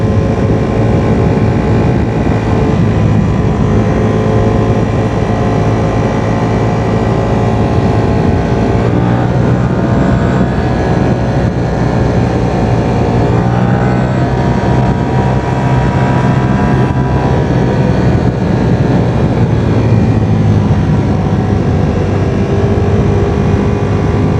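Ducati Streetfighter V4 in race mode leaning through curves, a loud continuous engine drone with steady wind rush close by, holding an even pitch throughout with no talk.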